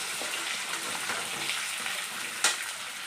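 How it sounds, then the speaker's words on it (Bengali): Pointed gourd fries in oil left over from frying fish, producing a steady, close, dense sizzle with a brief knock near the end. "মাছ ভাজা তেলের মধ্যেই পটলটা ভেজে নিচ্ছি আমি"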